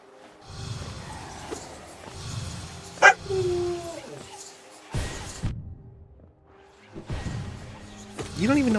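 A pet puppy named Nika barks and yips in short bursts at close range, with whimpering between them, while a person talks over the sounds.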